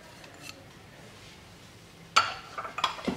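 Coriander, garlic, salt and cumin are mixed in a bowl, quiet at first, then a utensil clinks and scrapes against the dish in several sharp, close strokes.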